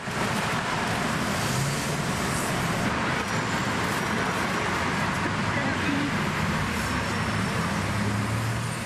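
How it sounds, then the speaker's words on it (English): Dense Seattle city traffic rumbles and hisses as a continuous, steady wash of road noise, close and fairly loud, with no single vehicle standing out and talk faintly mixed in. "this is traffic in Seattle."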